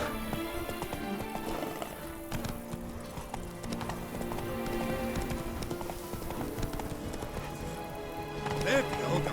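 Roach, Geralt's horse in The Witcher 3: Blood and Wine, trotting with steady hoof clops under a wash of game music and ambience, a snort or whinny near the end, and voices talking over it.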